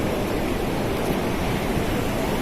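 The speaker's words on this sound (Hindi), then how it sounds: "ये सरस्वती नदी का उद्गम स्थान है" The Saraswati River rushes at its source, a dense, steady roar of flowing water close by and loud, with no pauses or voices.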